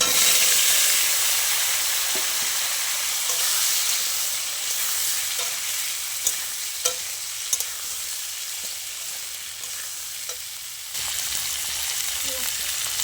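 Mixed vegetables hit hot oil in a pan with a loud, steady hissing sizzle that runs throughout, broken by occasional clinks of a spoon stirring.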